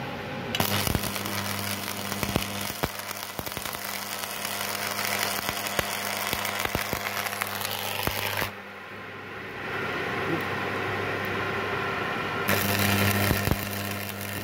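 Loud, continuous crackling and sizzling of electrode arc welding at 250 amps with a steady electrical hum, pausing briefly partway through before starting up again.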